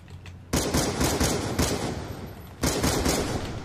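Gunfire in the video game Black Ops 2: loud bursts of shots starting about half a second in, continuing in a steady rattling stream with a brief lull and then another strong burst near the end, no talking.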